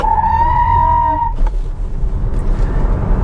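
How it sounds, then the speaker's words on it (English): A 2025 Jeep Wagoneer S launches with traction control off, its front tires squealing loudly in a steady high screech for about a second before breaking into rumbling road and motor noise close by. "It literally spins up its front wheels. It's not passing the power to the rear, it's just spinning the front wheels"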